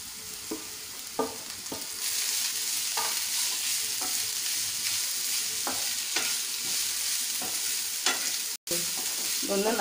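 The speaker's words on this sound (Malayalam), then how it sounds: "ഒന്ന് നന്നായിട്ട് ഇളക്കി കൊടുക്കാം." Grated potato and browned onions fry in a pan, a steady broad sizzle running throughout with repeated scraping stirs of a spoon at irregular intervals, close and fairly loud, no voices.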